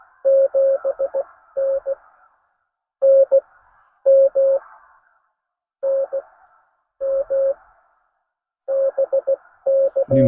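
Amateur radio CW Morse code sidetone during a Parks on the Air activation at West Shawnigan Provincial Park, a clean single-pitch tone keyed in short dits and dahs grouped into bursts with silent gaps between.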